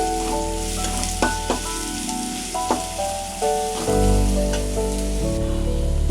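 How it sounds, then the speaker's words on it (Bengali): Onions fry in hot oil in a pan with a steady loud sizzle, punctuated by stirring taps and scrapes, the crackle swelling toward the end with no talking. "পেঁয়াজ দিয়ে তেলের উপরে একটু লাল করে একটু ভাজতে হবে"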